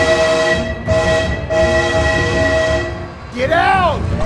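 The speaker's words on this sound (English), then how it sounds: "Oh my god, train!" Train horn blasts and rolling rail noise from a passing train in the BeamNG.Drive driving game, loud and sustained with a pitch-bending horn near the end, mixed with excited talk.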